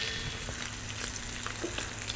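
Butter browning on a Monument Grills Mesa 400 gas grill alongside prime filet and jumbo lump crab, a steady close sizzle and fry crackle with no talking.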